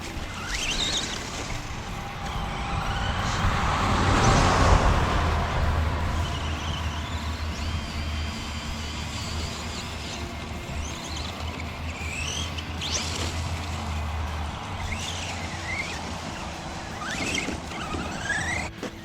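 A Redcat Wendigo RC truck driving outdoors, its motor whining and surging as the throttle rises and falls, with rough rumbling and crunching over uneven ground, loud and continuous for the whole stretch.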